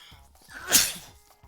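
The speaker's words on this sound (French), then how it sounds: "Oh, je vais éternuer." A single close sneeze bursts out sharply midway, bracketed by brief quiet mouth noises.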